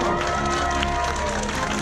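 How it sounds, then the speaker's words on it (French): An outdoor crowd at the 2018 Ultra Boucle de la Sarra 24-hour race applauds and cheers the race volunteers, a steady wash of clapping and voices without pause. "je veux vous passer un maximum d'applaudissements"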